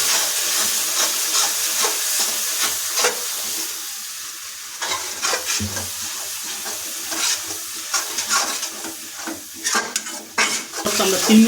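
Garlic-heavy ginger-garlic paste is sautéed in a pan for a jackfruit and prawn curry. A continuous close sizzle and hiss runs under repeated spoon scrapes against the pan.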